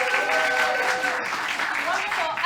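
Audience applause at an improvised soap opera comedy show, a sustained crowd clapping with a voice talking over it.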